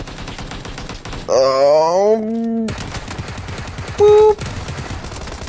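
Gunshots in a game, fired as rapid repeated bursts that run steadily through the moment, loud and close, mixed with electronic tones and a brief spoken word.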